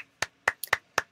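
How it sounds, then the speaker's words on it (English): Applause at a UCL Healthcare Engineering science showcase, heard as five sharp, evenly spaced hand claps from one nearby clapper, each crisp and separate with silence between. "could you give a big round of applause wherever you are to the wonderful Shoba"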